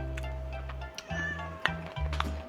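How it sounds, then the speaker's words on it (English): A pet cat meows near the mic in a home kitchen during cooking, a few short cries over low steady hum. "my cat"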